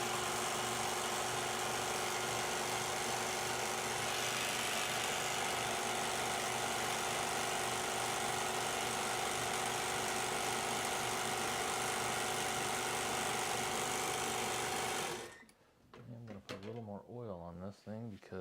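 A leather sewing machine that has sat unused for nine months runs steadily while winding thread, a continuous loud mechanical whir with a hum that stops abruptly near the end, followed by a brief speaking voice.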